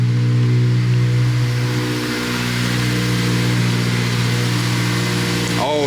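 A Honda Civic Si engine idling loudly up close, a sustained steady drone that dips slightly before a quick rev near the end.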